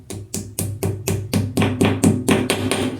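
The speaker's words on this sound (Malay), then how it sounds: "Dah kita boleh ketuk dah sini." Hand blows knock a wall shelf into place while it is mounted in a bathroom. There are about eleven sharp, evenly spaced knocks, close and loud, with no talk over them.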